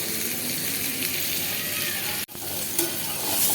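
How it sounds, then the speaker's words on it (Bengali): Potatoes frying in a pan, a dense, even sizzle with faint stirring sounds, briefly cut off by a sharp dropout before the frying noise returns just as strong. "দেখো আলুগুলো ভেজে নিচ্ছি।"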